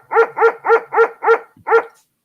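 Dogs bark in a steady run of six loud, close barks at an even rhythm, with a brief pause before the last one, no talking.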